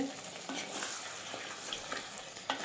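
Chicken curry fries in a clay pan with a steady close sizzle and faint spatter, broken by a few soft scrapes of stirring.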